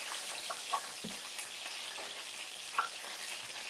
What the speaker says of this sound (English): Nothing like something frying, right?